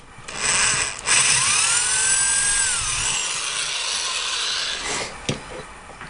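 A small drill bores out holes in 3D printed plastic prosthetic hand parts, a loud whirring grind with rising and falling pitch as the bit spins up, bites and stops, close to the microphone.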